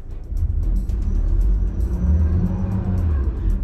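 A Mazda CX-50 engine revving in sport mode while driving off-road, a steady low rumbling drone with light surging and some faint clicks and knocks above it, no talk.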